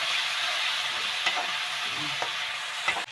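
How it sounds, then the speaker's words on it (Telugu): Tamarind juice being stirred into an egg curry base in a hot pan, giving a continuous loud hissing sizzle with a few faint spoon scrapes, no speech. "పులుసు వేసి ఇలా కలపండి"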